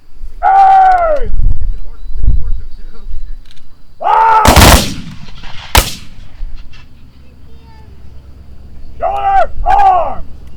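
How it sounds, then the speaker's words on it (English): Civil War reenactors at a Gettysburg living history event fire a company musket volley: one loud, sharp blast echoes out, followed by a second crack, amid shouted commands before and after. "Fire by company! Ready!"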